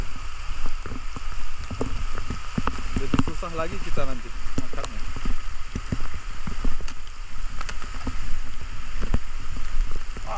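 Heavy rain pours down in a forest during a flood-risk storm, a dense steady hiss with scattered drops and splashes, while someone talks over it.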